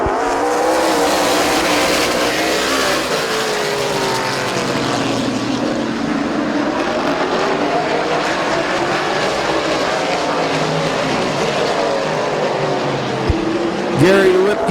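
Race cars at Midvale Speedway roar off at a green flag start, a loud, dense engine drone sweeping past continuously for the whole stretch, with a track announcer talking over it.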